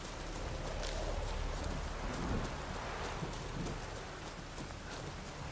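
Rain in The Witcher 3: Wild Hunt next-gen edition, a dense steady hiss of falling rain with a low rumble like distant thunder, continuous and even throughout.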